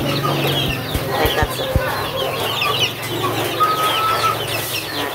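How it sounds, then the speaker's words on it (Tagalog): Asil chickens roaming on open ground cluck repeatedly in short, close bursts, with rooster-like calls and rustling amid faint outdoor background. "Enjoy na enjoy yung ating asil na paglalakad-lakad dito sa lupa."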